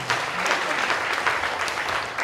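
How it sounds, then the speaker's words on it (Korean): Warm, continuous applause from a church audience at a book launch and prayer gathering, a dense roar of clapping filling the whole moment with no voices over it. "다시 한번 박수로 감사합니다."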